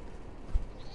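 A goat in the video game ESO lets out a single short bleat, faint and brief against a low background hum.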